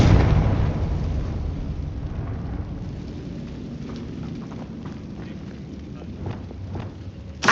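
A Confringo fire-spell blast cast inside a tomb in Hogwarts Legacy: a loud, deep boom at the start that rolls away into a long rumbling tail, with scattered faint crackles and a small thump at the end.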